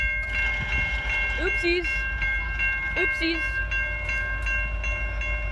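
A train passes a level crossing in New Westminster, British Columbia, its rumble steady and loud throughout, with sustained bell-like warning tones ringing over it and a person talking briefly near the camera.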